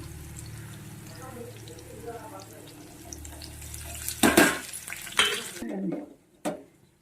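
Onions go into a hot pan while vankayi pachadi cooks, bringing a sudden burst of sizzling and metallic clatter after a stretch of steady frying and stirring, with a voice talking over the start.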